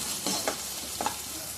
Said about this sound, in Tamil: தக்காளி ஆட் பண்ணிக்கிறேன். நல்லா வதங்கட்டும்.